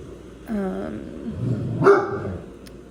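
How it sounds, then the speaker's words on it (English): A dog gives two close barks, a yip followed by a deeper woof a second later, with quiet room noise around them. "I was about to say something, and the dog just barked"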